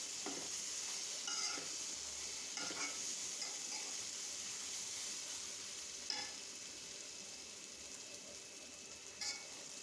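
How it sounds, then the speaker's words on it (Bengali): Raw mango pickle being stirred in a pan on the stove, a steady soft frying sizzle with a few brief scraping clicks of the spoon, close and alone with no talking. "এখন আবার আমি নেড়ে চেড়ে দিচ্ছি।"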